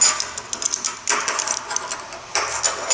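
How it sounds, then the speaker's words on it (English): Half-inch sockets and wrenches tightening bolts while installing a hidden hood strut kit on a VW MK2: close, uneven metallic clicking and ratcheting in short bursts with a few sharper clanks, with no voices. "Tighten everything down."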